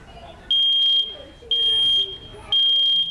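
A smoke alarm gives three loud, piercing beeps at a steady pace, each about half a second long, with faint voices in the gaps.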